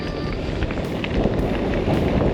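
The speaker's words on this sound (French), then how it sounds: "c'est le vent dans la gueule, il est terrible" Strong headwind buffets the microphone while riding a Specialized Turbo Como urban e-bike, a loud steady roar of wind noise with gusty rumble throughout and no speech.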